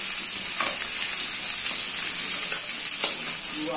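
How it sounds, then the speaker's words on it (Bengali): Chopped onions hitting hot oil for a katla fish kalia curry, a loud, dense frying hiss that holds steady throughout, with a couple of soft stirring knocks beneath it. "কুচানো অবস্থায় তেলেই দিয়ে দেবো।"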